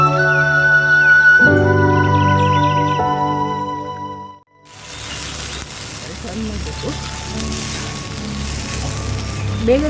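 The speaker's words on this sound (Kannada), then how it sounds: "ಬೇಗನೆ ಫ್ರೈ ಆಗುತ್ತೆ." Slices of mattu gulla eggplant sprinkled with sesame seeds fry in hot oil for a crisp Udupi-style fry. A steady broadband sizzle takes over after a short break, following a stretch of voice with tonal background sound.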